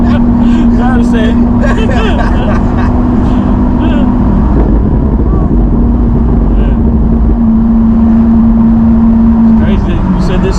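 A 2017 Lamborghini Aventador SV engine drones loudly and steadily from inside the moving car, holding a constant pitch that dips briefly midway, with people talking over it throughout.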